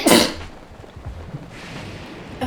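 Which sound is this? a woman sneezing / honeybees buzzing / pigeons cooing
a woman sneezing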